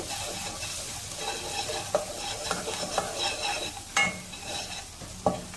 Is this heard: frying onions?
yes